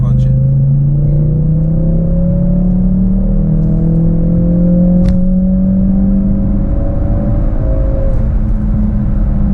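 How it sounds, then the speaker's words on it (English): A Ford Focus RS with a stage 2 tune in sport mode accelerates hard in third gear from 3000 RPM, a loud sustained engine drone climbing steadily in pitch with heavy road rumble, heard from inside the car. "we're gonna start from 3000 RPMs in stage 2. It is in sport mode, and we will be in third gear"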